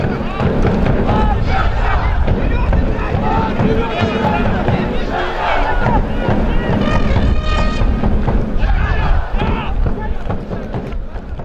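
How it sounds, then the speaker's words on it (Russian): Football fans cheering loudly in a packed stadium, a dense, continuous roar of crowd noise with chanting and shouts, loud and sustained throughout. "Фанаты очень громко болели за любимую команду."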